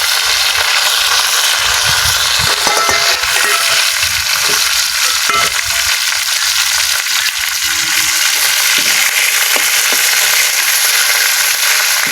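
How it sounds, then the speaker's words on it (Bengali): Dried fish (shutki) frying in hot oil in a wok in a home kitchen, giving a steady, dense sizzle and crackle throughout with occasional stirring scrapes and small pops. "কড়াই আকার পাত দিল, তেল দিল, এবার শুটকি ভেজে নেবে"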